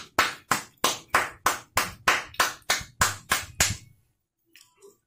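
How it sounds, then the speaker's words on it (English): A group claps hands in an even, steady rhythm, about a dozen sharp, loud claps in quick succession before stopping, with faint rustling afterward, in a home kitchen. "Clap it up, clap it up, clap it up."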